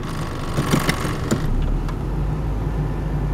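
A Toyota Paseo engine idles steadily, a low continuous hum close by, with a few faint clicks and knocks over it.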